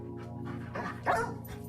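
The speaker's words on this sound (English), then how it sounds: "So what you're looking at is the dog's final response." A cadaver search dog gives a few short barks and yips, fairly close, with panting and whimpering between them over a steady background hum, with no talk.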